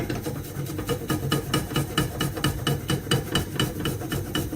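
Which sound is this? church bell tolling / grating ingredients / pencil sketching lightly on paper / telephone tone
grating ingredients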